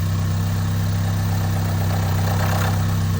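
A car engine running low on oil or with dirty oil idles nearby with a loud, steady low drone and constant mechanical vibration throughout.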